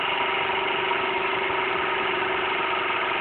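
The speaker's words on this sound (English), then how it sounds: "You hear it going slowing down." A homemade Newman motor replica wired with a coil and neon bulb runs with a steady, close mechanical whir and hum, holding an even drone as it slows, with no talking.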